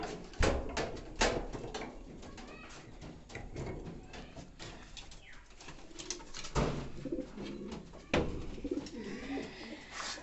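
Racing pigeons at a loft in Sakhipur, Tangail, cooing softly at close range, with intermittent bumps and knocks around the birds.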